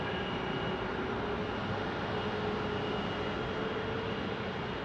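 An Airbus A321neo airliner at Phoenix Sky Harbor airport gives a continuous engine roar with a faint tonal whine, steady and moderately distant.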